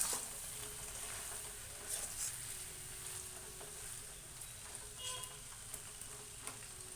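Eggplant curry frying in a pan on a home stove, a faint, steady sizzle with soft crackles and occasional stirring.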